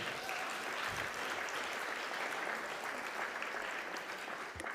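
Sustained applause from a conference audience fills the room, dense and even throughout.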